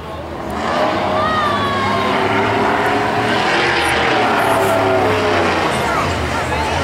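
Loud, steady engine roar from drag racing trucks at Beech Ridge, one a Dodge, fills the whole stretch with a rising and falling whine, and a commentator talks over it throughout.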